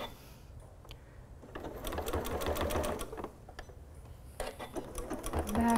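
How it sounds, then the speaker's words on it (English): A sewing machine runs in short bursts while backstitching a seam on a throw pillow, its rapid mechanical needle clatter starting, stopping and restarting close up. "I'm going to backstitch on these two edges because I don't want the seam to pull apart"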